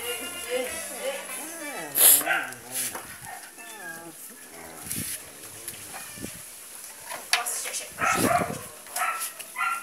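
Dogs bark and yip in short, scattered bursts, some near and some farther off, while people talk over them.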